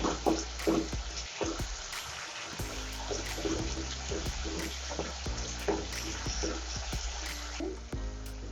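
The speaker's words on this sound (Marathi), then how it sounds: "टोमॅटो टाकूया। परतून घेऊया।" Tomatoes sautéed in a pan for a spicy chutney give a continuous close hiss and sizzle, broken by occasional stirring clicks and scrapes.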